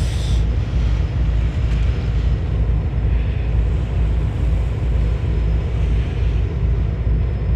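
An offshore monopod gas flare burns off vented gas at a drilling platform with a steady, loud, deep roaring rumble that holds unbroken throughout.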